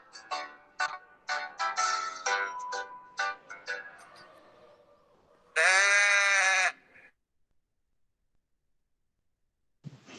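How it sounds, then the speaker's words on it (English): Several quick wavering bleats come in a row, then one long, loud, steady bleat, followed by near silence and a brief sound at the end. "A goat makes that sound."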